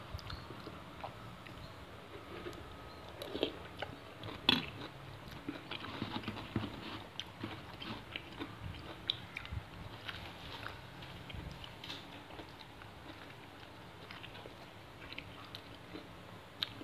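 Chewing and biting of rice with sour bamboo shoot curry and tilapia, soft irregular mouth sounds and small clicks close up, with occasional louder knocks and no talking.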